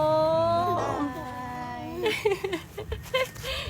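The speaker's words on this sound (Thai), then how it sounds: "มีพี่แมวด้วยเมื่อกี้" A cat meows and wails in a drawn-out, tonal cry, followed by shorter broken mewing sounds, close by during an evening walk outdoors.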